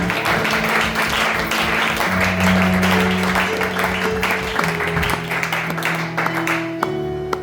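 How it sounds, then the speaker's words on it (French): A church congregation applauding at a Sunday service, with dense clapping and cheering voices over sustained organ or keyboard tones that keep running until the applause thins out at the end. "Est-ce qu'on peut acclamer pour cette personne-là?"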